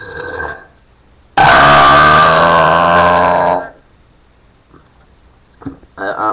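One long, very loud, rumbling human burp lasts over two seconds, after a brief quiet moment, with a person making short vocal sounds before and after it.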